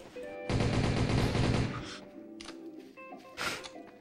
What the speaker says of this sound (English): Now I shoot him.